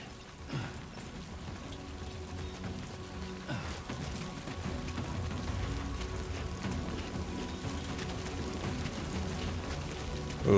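Heavy rain pours down in the video game Death Stranding 2, a steady close drumming on surfaces with a faint low rumble underneath and a louder burst at the very end.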